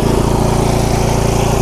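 A Cub Cadet riding lawn mower engine runs steadily and loudly close by, giving a continuous low, throbbing drone with no talking over it.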